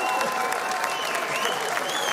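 A crowd at a FAME MMA press conference claps steadily and loudly throughout, a dense continuous wash of applause with some cheering mixed in.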